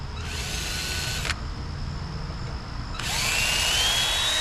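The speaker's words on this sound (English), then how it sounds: "I need to drill a couple holes here" A power drill whines through a metal bracket, kept wet, in two bursts with a short lull between, loud and close, no talking.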